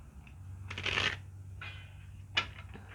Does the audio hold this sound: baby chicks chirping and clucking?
no